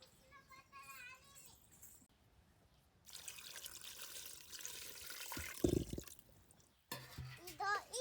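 Water trickles and pours in a home kitchen during cooking, a soft splashing stretch in the middle and again near the end, with people talking around it.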